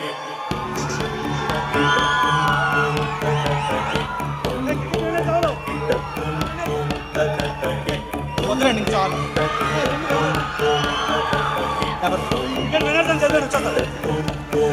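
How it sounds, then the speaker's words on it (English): A large, noisy crowd at a university cultural fest cheers and whoops loudly over a steady musical beat, with shouting voices throughout and little distinct clapping. "So shall we give a big round of applause for the wonderful speech that we heard today?"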